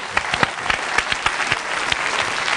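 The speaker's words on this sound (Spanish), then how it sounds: "tú, Eladio, un aplauso para ellos, venga, hala." Hands clapping in applause from a small group, steady and fairly close, with sharp irregular claps running through the whole stretch.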